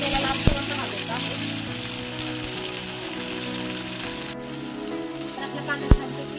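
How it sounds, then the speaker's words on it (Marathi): Onion, tomato and masala sizzle loudly and steadily in oil in a pan for a chicken masala curry, with a voice talking underneath the constant frying hiss. "इथे मी कांदा आणि टमाटर सोबत घालत आहे। तर आपल्याला यावरती थोडंसं तेल टाकायचं आहे। हा मसाला आपल्याला लालसर भाजायचा आहे।"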